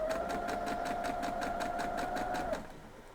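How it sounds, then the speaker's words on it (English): Close, steady hum of a sewing machine stitching fabric for a broken courthouse steps quilt block, a rapid even needle rhythm running continuously before stopping abruptly near the end. "we're going to sew this one"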